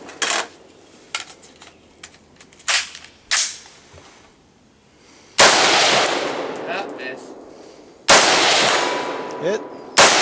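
Gunshots ring out as targets are hit: several sharp cracks and short bursts early on, then two very loud blasts with long decaying echoes, close up and without talk.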